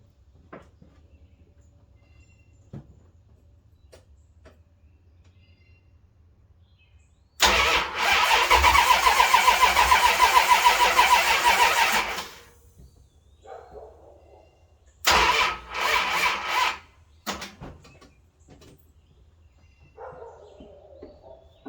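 A Mopar 440 V8 in a truck, fitted with open headers and carrying a slight exhaust leak, cranks and fires in two loud bursts: a roaring run of about five seconds, then a shorter, choppier attempt, with no voices.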